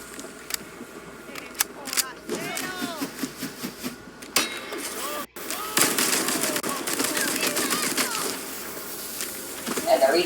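Rapid automatic gunfire from a held-down trigger in Resident Evil 4 Remake, coming in dense bursts that grow louder and more continuous toward the end, with someone talking over parts of it.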